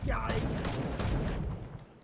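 Gunfire in a video game, a rapid volley of sharp shots and impacts striking the player, loud and close, tailing off toward the end.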